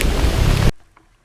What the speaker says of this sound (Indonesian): Kondisi hujan semakin deras teman-teman.